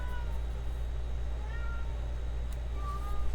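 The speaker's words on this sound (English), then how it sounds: "It is a cat." A cat meowing, with a few thin drawn-out mews over a steady low hum, faint and somewhat distant.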